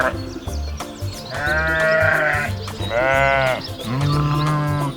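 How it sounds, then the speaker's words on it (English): Several sheep bleat in wavering, drawn-out calls, two or three loud cries close by over steady background music, on a farm. "Sheep."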